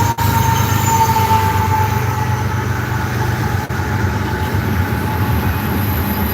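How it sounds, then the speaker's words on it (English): A commercial freight train passes along a nature trail, a steady loud rumble of wheels and cars with a sustained horn-like tone, continuous and close throughout without talk. "Oh, here comes the train, y'all."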